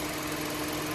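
A car engine runs steadily during a cylinder head gasket test after about an hour of running, giving a constant close mechanical hum with no pauses.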